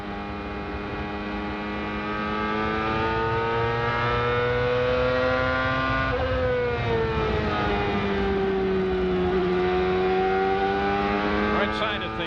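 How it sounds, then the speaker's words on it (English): Onboard engine of a CART race car at Nazareth in 2001, a loud sustained high-revving drone with steady harmonics that dip and rise slightly as the car lifts and accelerates through the corners, filling the whole span. "see how the engine sounds."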